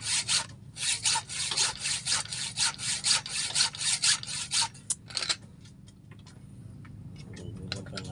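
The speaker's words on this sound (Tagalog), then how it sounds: "Ang lagari." A hand saw cuts in steady, rapid back-and-forth strokes, close and loud, then stops, leaving a few light knocks and scrapes.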